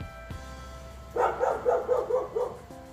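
A dog barks several times in quick succession, a rapid burst of loud, fairly close yaps over a quiet background hum, during a barbecue temperature controller installation.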